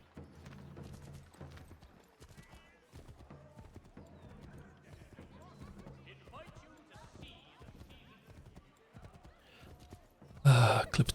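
Horse hooves clip-clop at a steady, rhythmic pace during horseback riding in the Assassin's Creed III Remastered video game, layered over low in-game ambience, with a loud sharp burst near the end.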